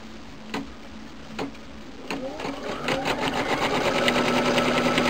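An electronic quilting machine stitching fabric held in a hoop, starting with a few isolated clicks before settling into a steady, fast, rhythmic mechanical stitching hum that grows louder and continuous.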